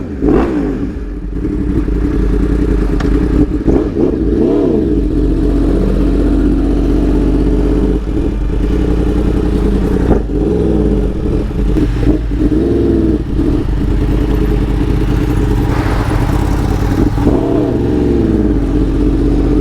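A tuned Yamaha R1 Limited Edition sport motorcycle being ridden, its engine loud and close throughout, droning steadily with repeated rising revs and gear changes, with no talking.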